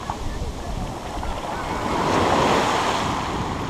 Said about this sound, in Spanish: Ahí viene el agua.